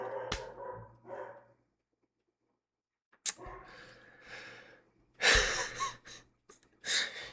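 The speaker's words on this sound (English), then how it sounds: "You hear my dog barking?" A dog barks indoors in short, separate bursts, near and fairly loud, with a wheezy, snorting edge and quiet gaps between barks.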